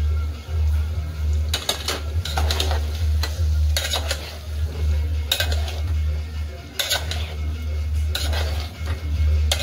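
A spoon stirs ridge gourd curry in a pan on the stove, giving repeated scraping and clinking strokes at an irregular pace over a steady low background hum.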